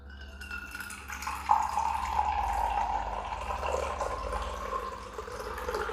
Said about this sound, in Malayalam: ഈ ഗ്ലാസ് അല്ലെങ്കിൽ ഇതുപോലൊരു പാത്രത്തിൽ അല്പം വെള്ളം ഒഴിക്കുക.